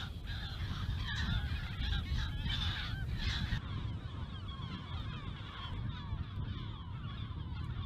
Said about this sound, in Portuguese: Uma espécie de gaivota diferente das outras gaivotas, porque é uma gaivota essencialmente marinha